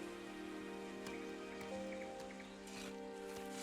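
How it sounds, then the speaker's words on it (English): Rain falls in the video game Settlements Rising, a steady soft hiss of drops mixed under quiet tonal game music, with faint clicks and no talk. "Wow, it's raining."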